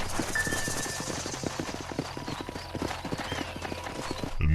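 Horse hooves clip-clopping in an Xbox 360 video game, a steady close rhythmic trot of hollow knocks over a faint low hum, with no voices.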